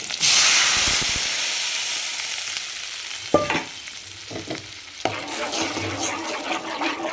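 Loud hiss of spices, including cumin, hitting hot oil for tempering, then a steady sizzle broken by a few stirring clatters, close by with no talking.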